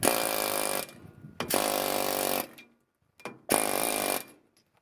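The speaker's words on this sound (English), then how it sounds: "I use an impact hammer. All I'm doing is adding vibrations to vibrate the rusty stuck loose" An impact hammer hammers at a rusty, seized brake drum on an FMTV LMTV military truck during park brake work, three loud sustained bursts of rapid pounding vibration with short pauses between them, close and with no talk.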